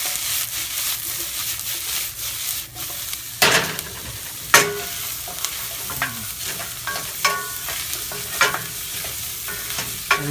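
Thyme frying in a pan with salt and pepper while filet mignon cooks, a steady close sizzle broken by several sharp scrapes and clacks of stirring.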